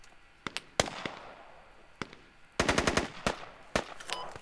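Machine gun fire in the military shooter Squad, heard as scattered single shots followed by a rapid close burst of rounds and a few more cracks, with no talking.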